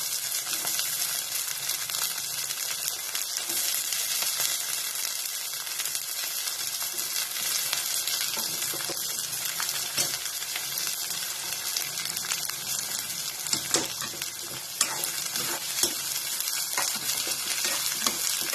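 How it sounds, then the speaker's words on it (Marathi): Freshly washed, still-wet cluster beans (gavar) sizzle loudly and steadily in a pan over a high gas flame, with occasional scraping stirs breaking through the constant hiss. "मी या ठिकाणी गवारी धुवून घेतलेली आहे, ती याच्यामध्ये घालायची."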